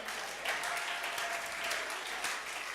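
A church congregation applauds steadily, a dense, even wash of many hands clapping at moderate distance without a break.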